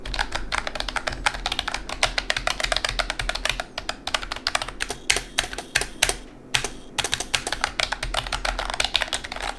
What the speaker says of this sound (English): this keyboard uses a membrane and doesn't have a tactile mechanical key setup